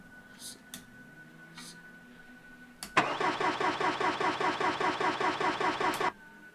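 A car engine cranks in BeamNG.drive: after a few faint clicks and a knock, the starter churns in a fast, even rhythm for about three seconds, loud and close, then cuts off without catching.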